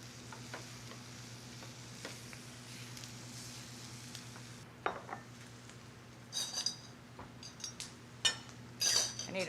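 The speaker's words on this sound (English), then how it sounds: "I'm going to stir in my parsley, and we're ready to have breakfast." Corned beef and potato hash fries in a pan as parsley is stirred in, making a low steady sizzle broken by spoon scrapes and sharp metallic clinks toward the end.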